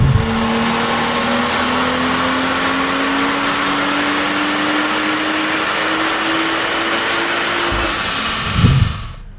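A car engine revs hard and steadily, the pitch climbing slowly over several seconds before cutting off, with a roaring exhaust throughout; a tuned big-turbo Cupra on a dyno.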